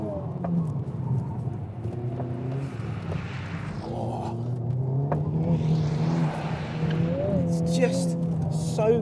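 A BMW M3 Competition, Mercedes-AMG A45 or Honda Civic Type R GT driving a track lap, its engine note rising and falling as it brakes, corners and accelerates hard, close and loud, with someone talking over it.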